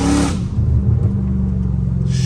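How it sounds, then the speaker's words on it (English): A catless Dodge Challenger Hellcat Redeye downshifts at night, its exhaust blaring in a loud, deep, close rev that settles into a sustained heavy rumble. "The downshifts are freaking crazy."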